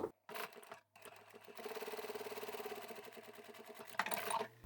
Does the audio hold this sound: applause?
no